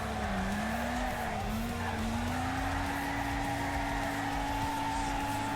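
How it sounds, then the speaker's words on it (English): Race cars in the driving game Wreckfest, with tyres screeching in a sustained, wavering squeal over a steady engine drone, loud and continuous, no voices. "the tyre screeching going on"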